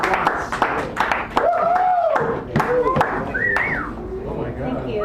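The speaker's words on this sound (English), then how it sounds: "Give her a nice round of applause." At Sacred Grounds Cafe in San Francisco, a poetry night audience gives a poet a round of clapping, sharp scattered handclaps mixed with cheers and voices, tapering off near the end.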